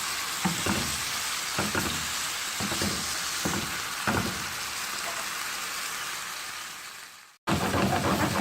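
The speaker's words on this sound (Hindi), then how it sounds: "4 टेबल स्पून ऑयल लेकर इसमें गार्लिक को सौते कर लेंगे और इसमें मैरिनेट किया हुआ चिकन डाल देंगे और इसे मिक्स करना शुरू करेंगे।" Marinated chicken frying in hot oil with garlic, a loud continuous sizzle with rhythmic stirring strokes every second or so, cutting off briefly before the frying resumes.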